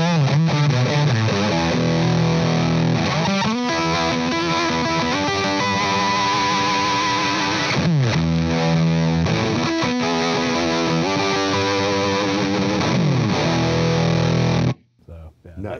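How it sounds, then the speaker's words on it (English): Electric guitar played through a Bob Balch signature fuzz pedal with the bass contour engaged: thick, saturated distorted chords and riffs ring out loud and continuous, then cut off abruptly near the end. "I'll totally use the bass contour, you know, and you could hear how that like colors the fuzz a little different"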